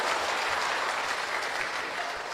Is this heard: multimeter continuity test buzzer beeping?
no